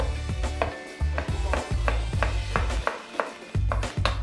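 A knife roughly chops an onion on a board for chorizo and spinach spaghetti, a steady run of about a dozen sharp, close thuds at an uneven quick rhythm, with no talk.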